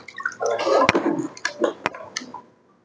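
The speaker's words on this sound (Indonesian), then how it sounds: "pertama langsung celupkan ke wringer, ini namanya wringer. Ya, harus diputar." Mop pushed into and twisted in a cleaning bucket wringer, wet squelching and dripping with sharp plastic clicks, loud and close, fading out near the end.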